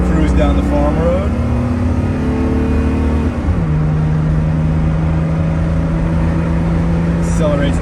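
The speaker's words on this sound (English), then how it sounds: "Accelerates nice for a 50-plus-year-old car." A 1970 Mercedes-Benz 280SL roadster drives along a farm road and accelerates; the engine note rises steadily through the gears, loud and close from inside the car, with a brief dip at a shift before settling into a steady drone.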